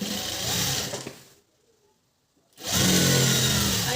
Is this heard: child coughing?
no